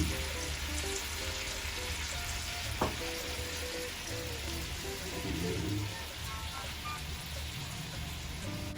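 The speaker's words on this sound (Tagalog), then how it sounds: "hayaan ko lang siya na naka-open. Hindi ko siya tatakpan para maluto yung gata." Coconut milk simmers uncovered in a pan while laing cooks, a steady low bubbling sizzle with faint crackles and one small clink, close and fairly quiet.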